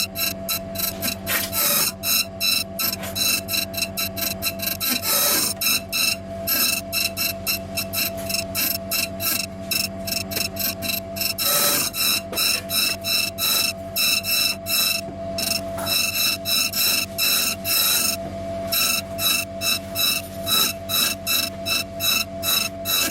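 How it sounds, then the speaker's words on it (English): A slot cutter machines a part on a mill, giving a loud, rhythmic rasping chatter with repeated regular bursts and short pauses, close and steady throughout. "the cutter itself is just a slot cutter"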